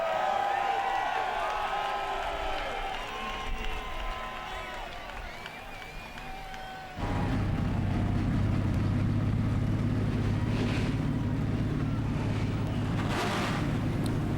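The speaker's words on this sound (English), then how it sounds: "Drivers, start your engines!" Several NASCAR Busch Series stock car engines start together at Circuit Gilles Villeneuve in Montreal, a sudden loud low roar that kicks in midway and holds steady over crowd noise, after a stretch of distant announcer talk.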